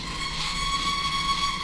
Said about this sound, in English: I can sound the whistle as many times as I like.